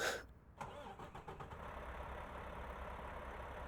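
A truck engine in American Truck Simulator cranks over and starts, then settles into a steady low idle hum that carries alone to the end.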